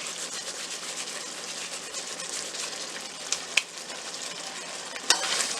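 A spoon stirring a simmering makhani paneer gravy seasoned with garam masala and crushed kasuri methi, a steady soft sizzle with faint scraping and a couple of sharp clinks near the end.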